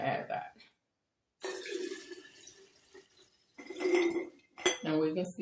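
Water is poured into a glass jar of fresh chopped burdock root, with clinking glass, splashing liquid and handling noises coming in uneven bursts close by, broken by a brief silent gap.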